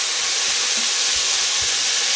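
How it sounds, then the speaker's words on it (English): Soy sauce sizzles and steams in a hot pan while cooking foo young, a Chinese omelette, giving a steady broadband hiss that runs unbroken and fairly close throughout. "You want to cook that just for a couple of seconds, and you'll notice there's a lot of steam issuing now."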